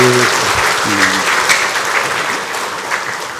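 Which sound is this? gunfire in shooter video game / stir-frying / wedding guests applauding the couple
wedding guests applauding the couple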